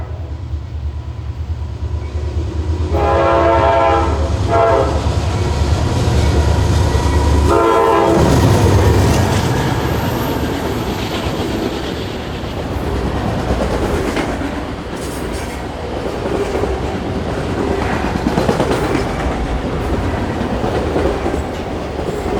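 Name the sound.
General Electric Dash 9-40C locomotive leading a train past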